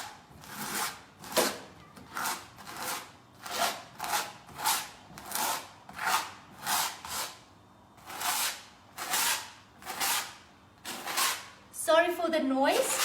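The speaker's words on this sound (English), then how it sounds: "Sorry for the noise, it's just the scraper that's moving on the canvas." A paint scraper drags across a canvas coated with Tjhoko chalk paint, making a series of rhythmic rasping scrapes, roughly one per second. The scrapes are close and moderately loud, with a brief clatter at the end.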